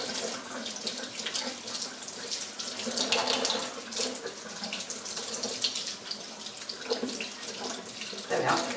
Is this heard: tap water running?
yes